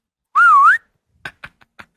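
A person whistles in imitation of Arthur Morgan's whistle: a single sustained, wavering melodic note, followed by a few short, soft whistled chirps.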